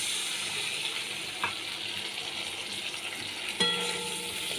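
Bhola fish in mustard paste, with a splash of water added, sautés in a pan with a soft, steady sizzle, broken by a couple of faint clinks of the spatula.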